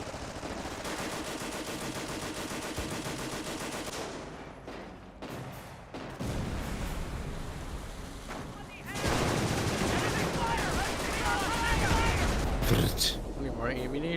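Sustained gunfire rattles in a Company of Heroes 2 battle, with dense machine-gun bursts and overlapping shots that dip briefly and then swell louder, while someone talks over the fighting.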